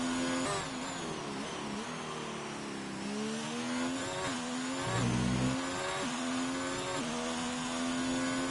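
A Formula 2 race car at a preseason test in Spain, heard from onboard: a loud, continuous high-revving engine whine that rises and falls, with a quick downshift into fifth, then an upshift to sixth.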